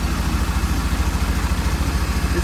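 A steady Mercruiser 4.3 V6 marine engine idle, a low, even rumble with a regular pulsing throb and no change in pace, heard close and alone during timing setup after a rebuild.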